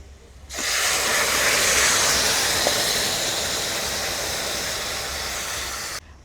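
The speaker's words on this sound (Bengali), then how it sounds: "এবারে তরকারিটা ছুঁকে নেব।" Vegetable curry sautéing in mustard oil in a kadai, a loud steady hissing sizzle that starts abruptly, holds evenly for several seconds, then stops suddenly.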